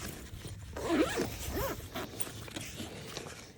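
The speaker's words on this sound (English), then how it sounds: "all you need to do is just zip it up" A Starlink Mini travel bag is zipped up in several quick, rasping pulls close by, with light handling rustle around them.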